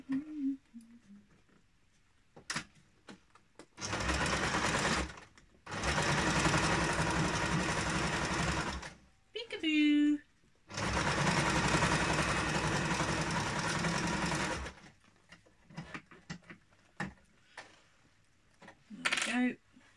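A sewing machine runs in several bursts of rapid mechanical whirring and stitching, zigzagging a kick scooter bag closed, with pauses and a few clicks and clinks between runs and a voice heard briefly.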